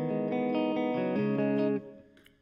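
An electric guitar plays chords with distortion for the outro of a Hindi song: a few thick, sustained strummed chords ring loud and close, then cut off and fade into a quiet tail.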